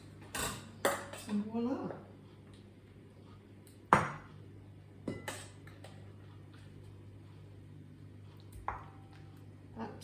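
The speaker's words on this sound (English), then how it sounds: "And then you ladle it out into your bowls" Soup being ladled into bowls in a home kitchen, a few scattered metallic clinks and taps of utensil against dishware, fairly quiet, with a brief spoken voice.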